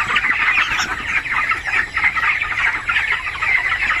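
A dense flock of chickens on a poultry farm, many overlapping clucks and squawks in a continuous loud chorus, close by.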